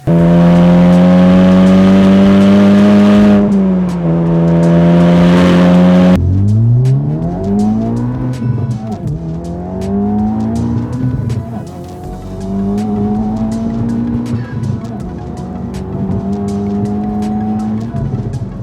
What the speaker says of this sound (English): For this FL5 Civic Type-R, we have our PLM full titanium valve exhaust.